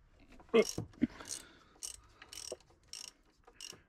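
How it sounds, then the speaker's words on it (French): A wrench ratchets as the alternator is loosened on a Fiat Abarth 131 Volumetrico engine, making a few short, separate metallic clicking bursts close by in an otherwise quiet space. "Alors là, on desserre l'alternateur."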